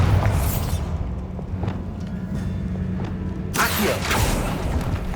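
A Bombarda blasting spell in Hogwarts Legacy, cast inside a tomb, goes off as a loud booming burst, followed by a short lull and then a second rumbling blast with debris, all near and without speech.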